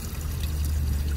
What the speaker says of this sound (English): water's running back down there.